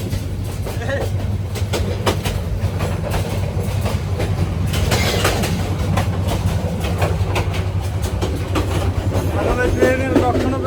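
A Bangladesh Railway train runs steadily, its carriage rattling and clattering with a constant low rumble, a loose door adding irregular knocks and bangs close by.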